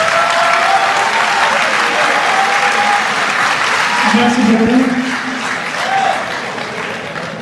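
An audience applauds loudly and continuously at a gathering where the prime minister is present, the clapping slowly thinning toward the end while someone briefly says thanks over it.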